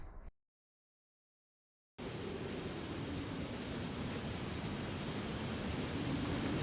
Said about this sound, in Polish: Co tak szumi? Aha, ten wodospad.